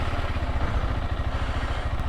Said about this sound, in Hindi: So this is my first start of the bike.